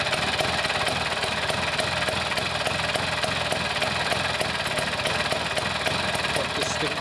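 Vespa scooter engine running steadily after a kickstart, a continuous buzzing, rattly two-stroke drone held at an even level throughout with no pauses.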